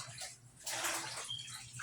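Water runs in a kitchen sink as collard greens are rinsed of salt water, a steady splashing rush that swells midway and stays close.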